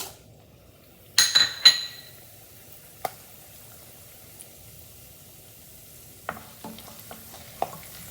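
Garlic, dried red chilies and curry leaves dropped into hot oil for tomato pickle, with a short burst of crackling sizzle, then quieter frying and a few clinks of a spoon against the pan, no talking.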